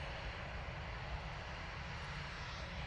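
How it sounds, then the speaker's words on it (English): A Lufthansa A320 airliner in Star Alliance livery departs, its engines a steady, distant broadband roar that holds level throughout with no voices. "Next out, Lufthansa A320 in the Star Alliance livery"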